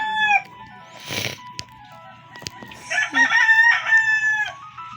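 Bird calls from the Roblox game Grow a Garden, heard as a rooster-like crow and clucking, with a short call near the start and a louder, drawn-out call in the last two seconds, alone without talk.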